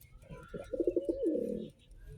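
A racing pigeon gives a single throaty coo with a few pulsing notes that swell into a longer rolling trill, heard close and clear against faint background noise.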